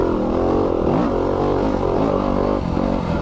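A 2020 Yamaha YZ250FX dirt bike engine is held in third gear and pulls a loud, sustained, buzzing whine close by, with the pitch wavering slightly as the throttle shifts.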